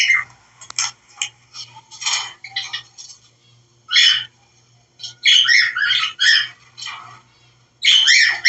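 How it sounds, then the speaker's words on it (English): Birds chirp outdoors around a house in repeated bright bursts, some single calls and some dense flurries, close and fairly loud over a faint steady low hum. "Hear all the birds chirping around his house?"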